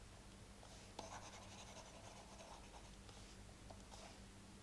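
A pen writes out a math solution on paper, a faint, continuous scratching of strokes under a steady background hiss, with no voices.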